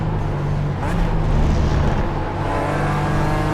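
A BMW race car engine in the iRacing sim racing game drones steadily and loudly throughout, a sustained low motor hum with a slight swell in the middle as the car is pushed hard.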